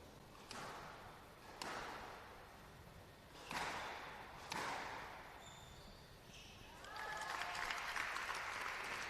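Home crowd at a squash national championship match applauding in several short bursts, then a longer sustained round of clapping, moderately distant in an echoing hall.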